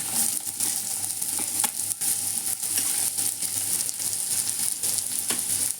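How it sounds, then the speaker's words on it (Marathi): Onion, garlic and curry leaves fry in a pan, giving a continuous close sizzle broken by scattered clicks and scrapes as the mixture is stirred, with no one speaking. "कांदा चांगला असं हलवून घेऊ."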